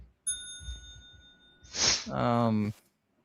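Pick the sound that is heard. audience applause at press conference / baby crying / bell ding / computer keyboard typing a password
bell ding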